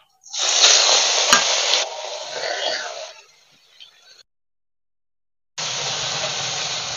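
Bhola fish drops into hot oil in a wok and sets off a loud, close burst of hissing sizzle that fades over a few seconds. After a short silence a steady sizzling resumes, with no voices.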